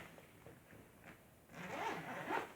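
A zipper on a child's school bag is pulled open close by, a soft scrape that grows louder and rougher in the second half over quiet room tone.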